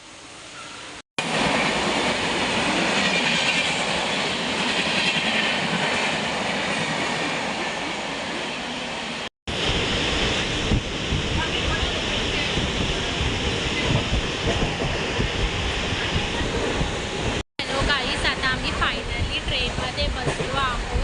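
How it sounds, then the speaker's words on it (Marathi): A Mumbai local train heading to Vikhroli, heard from inside the carriage: a continuous loud rumble of wheels and rails with rhythmic clatter, interrupted by a few abrupt cuts. "ट्रेनमध्ये बसलो आहोत, तुम्ही बघू शकता"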